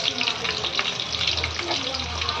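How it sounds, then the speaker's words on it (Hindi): Chopped onions sizzle in hot oil in a kadhai, a steady dense hiss that stays close and continuous. "यहाँ पर कढ़ाई चढ़ा दी, इसमें डाल दिया है तेल, तेल गर्म हो गया है, और फिर कटी हुई प्याज"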